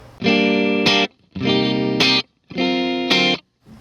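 Clean electric guitar through a Boss RV-5 digital reverb pedal on room setting: three loud strummed chords, each ringing about a second with a brighter attack near its end, separated by short silences.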